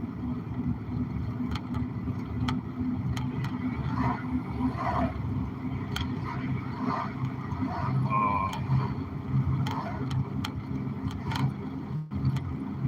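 Morning road traffic gives a steady, low rumbling drone of passing cars, with a faint voice now and then over the continuous hum.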